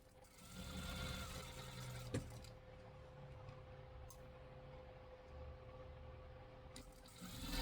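A sewing machine runs in a steady stitching burst as it sews around a fabric toy sheep, then slows to softer, quieter running; no one speaks.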